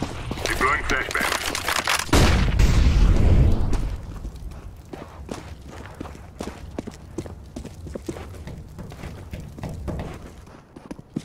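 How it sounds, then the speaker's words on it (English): A flashbang in the Dust 2 map of CS:GO goes off with a sharp loud burst and ringing wash, then fades into scattered crackling shots and clicks, with voices speaking. "Deploying flashbang."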